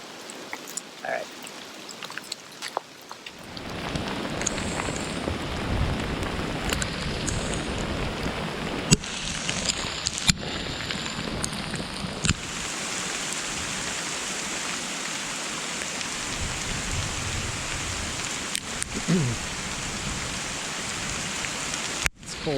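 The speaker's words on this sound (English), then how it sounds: "It's about to get pretty nasty, so I'm going to put my phone away. Yeah, here it comes. There's hail too." Heavy rain mixed with hail pelts down during a mountain storm, starting quietly then surging after a few seconds into a loud, dense, continuous drumming hiss with sharp impacts and occasional low rumbles.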